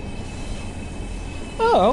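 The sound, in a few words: train running in video game Train Sim World 4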